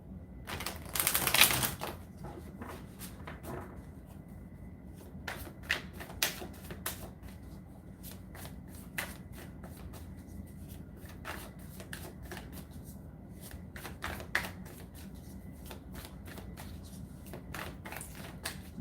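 Tarot cards are shuffled repeatedly during a reading, with bursts of quick riffling and soft flicking, close and fairly quiet in an otherwise still room.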